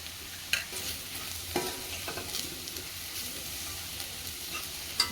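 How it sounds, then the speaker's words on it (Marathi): Onions fry in a pan as turmeric is stirred in for dal palak, a steady close sizzle with a few sharp spoon clacks and scraping stirs, no talking. "आता आपला कांदा चांगला परतला आहे आता आपण हळद घालतो याच्यामध्ये"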